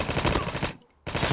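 Rapid automatic gunfire in the Call of Duty Mobile video game, a loud continuous burst that stops briefly and then resumes.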